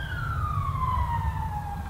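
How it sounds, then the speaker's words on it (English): An emergency vehicle siren passes outside, a steady wailing tone gliding downward as it moves away, heard moderately loud over low traffic rumble, with no speech. "Siren's always going by."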